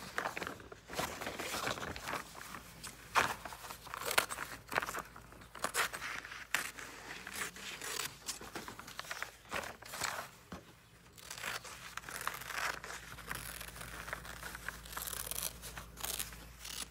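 Scissors cut through velvet fabric pieces for making pansies, with crisp snipping, rustling and crinkling handling noises in irregular bursts, close and moderately loud throughout.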